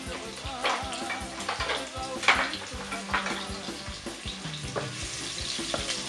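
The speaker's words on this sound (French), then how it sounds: "On va faire revenir les oignons" Onions fry in hot oil in a pot, a continuous close sizzle with stirring scrapes and small spatters throughout.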